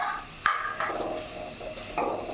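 A spatula scrapes and knocks against a pan while chicken fried rice with cooked chicken is stirred over a light sizzle, with a few distinct clanks spaced apart.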